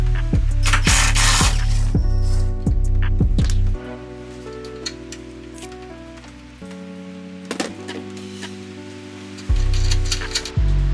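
Ratchet wrench turning strut bar bolts on a G37 coupe, close rapid clicking bursts of the pawl with loud mechanical humming tones between strokes, pausing and resuming over several seconds.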